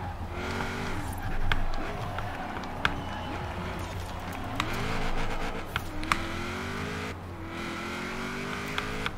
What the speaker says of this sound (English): The sound of this car